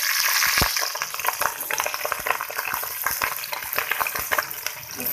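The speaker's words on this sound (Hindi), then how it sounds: "हरी मिर्चों को फ्राई कर लेंगे हम 1 से 2 मिनट के लिए" Green chilies frying in hot oil for a Hyderabadi chili salan, a dense, steady crackling sizzle up close with rapid popping spatters throughout.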